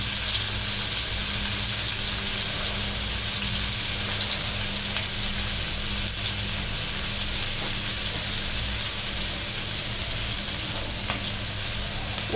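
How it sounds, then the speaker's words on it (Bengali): Large prawns frying in a pan for prawn malai curry, a steady, dense sizzle that carries on unbroken and fairly loud with no talking. "হালকা একটু ভেজে নেব, খুব বেশি ভাজা যাবে না।"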